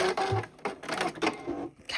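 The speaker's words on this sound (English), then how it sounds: "I'll stitch along and then I'll just come right past where I stopped last time and do a back stitch." A sewing machine stitches felt and makes a back stitch, giving several short bursts of close mechanical whirring with brief pauses between them.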